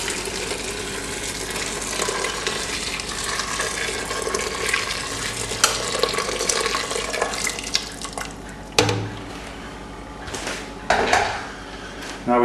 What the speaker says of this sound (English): Top up with the water from the hot kettle until it covers the veg.